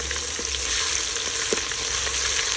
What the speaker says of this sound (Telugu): నూరిన అల్లం వెల్లిపాయ పేస్ట్ ఉల్లిపాయ పేస్ట్ ఉంటాయో అది వేస్తున్నారు కలుపుకోవాలి